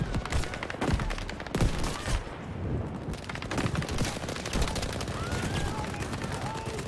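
Battlefield V gunfire during an online match: dense, continuous bursts of rifle and machine-gun fire with loud cracks and booms, with a voice faintly present underneath.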